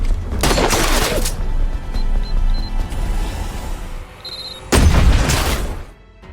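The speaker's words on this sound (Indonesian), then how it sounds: "Baku tembak pun kembali terjadi" Gunfire exchanged in an action film, with two bursts of loud, dense shots separated by a stretch of rumbling, quieter action.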